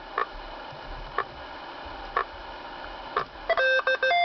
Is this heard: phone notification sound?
yes